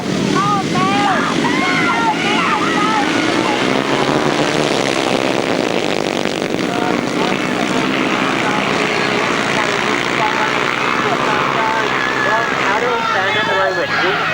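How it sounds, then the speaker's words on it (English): 500cc sidecar motorcycles race on a grasstrack, their engines roaring together in a dense, continuous drone around the first bend, with a voice talking over the racket. "We've got the 500cc sidecars underway as they go round that first bend."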